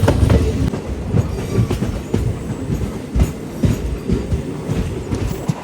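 A Kurnool City–Guntakal DEMU train runs on single-line track, giving a loud, continuous low rumble with steady rhythmic wheel clatter from inside the carriage.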